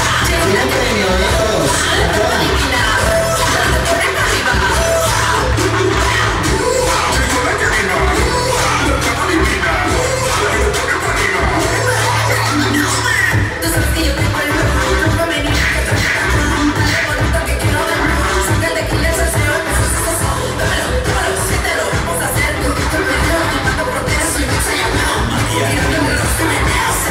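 A circus audience at Circo Atayde applauds and cheers loudly and continuously, with shouts and whoops rising from the crowd throughout, a dense, noisy roar lasting the whole stretch.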